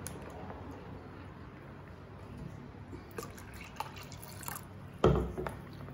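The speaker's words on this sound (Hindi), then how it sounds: "इसे अच्छे से मिक्स करते जाना है और इसमें पानी ऐड करते जाना है" Water poured and mixed into tomato dosa batter in a home kitchen, faint liquid trickles and splashes with a few soft knocks, ending in a sharper pour or stir splash.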